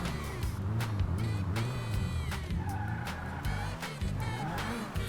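In the GTA video game, a car engine growls loud and close in pulsing revs, punctuated by sharp clicks and brief tire squeals, with no talking.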